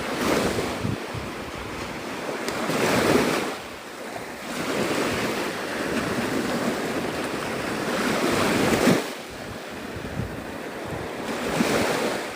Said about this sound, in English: This is Navarre Beach, Florida.